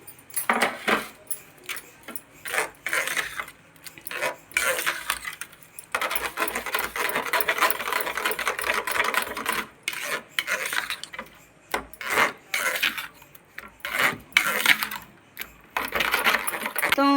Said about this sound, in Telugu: మనం వేసిన పోపు మొత్తం పచ్చడి మొత్తం కలిపియాలండి.